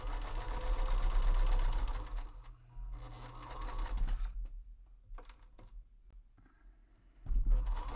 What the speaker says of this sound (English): I am gonna sew on it more.